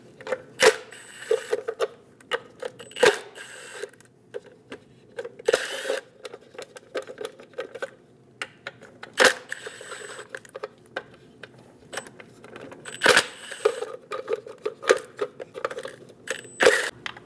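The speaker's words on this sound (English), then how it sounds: "Using a 21mm socket, we're going to remove all of these lug locks." A 21mm socket turns and clicks off the wheel lug locks on a 2001-2006 Chevrolet Silverado 2500 HD, with sharp, irregular ratcheting clicks and clacks, moderately close, spread over the whole stretch with quieter gaps between.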